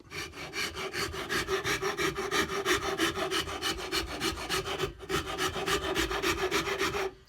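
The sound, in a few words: Shinto rasp carving a wooden cigar box guitar neck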